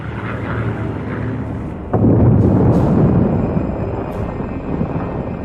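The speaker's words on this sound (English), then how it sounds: "The aircraft banks away at high speed." A bomber aircraft banking away at high speed after dropping an atomic bomb on Japan in 1945, heard as a loud, sudden roaring surge that holds steady, then slowly eases off, with no voices.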